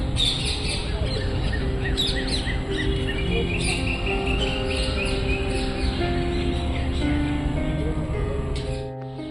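A parrot and other birds call at a riverside ghat in Kolkata, with dense overlapping chirps and sharp repeated tweets over steady background noise, fairly close and continuous.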